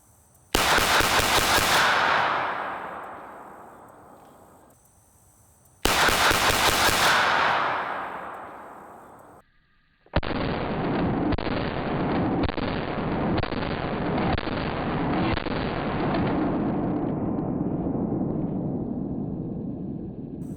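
Shots from an HK USP Expert pistol fired single action: two sharp, loud reports with decaying echoes a few seconds apart, then a dense sustained burst of rapid gunfire-like crackle lasting about ten seconds.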